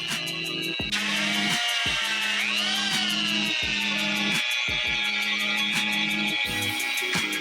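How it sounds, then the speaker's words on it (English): Drill fitted with a polishing pad working a wet, damaged marble table top: a steady high-pitched motor whine runs throughout with a pitch rise midway, broken by repeated low scraping pulses as the pad moves over the stone. "And it's time to start polishing."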